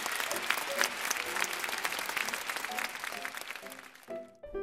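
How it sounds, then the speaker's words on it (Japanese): Audience clapping at an award ceremony for a Burgmüller piano competition final in Tokyo, a steady wash of applause from a crowd, fairly faint and distant, tapering off near the end before a voice starts. "大きな拍手をお願いいたします。"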